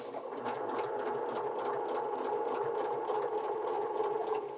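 A sewing machine stitches irregular patchwork curves with a quarter-inch seam allowance, running in a steady, close, continuous whir with a fast rhythmic needle patter throughout.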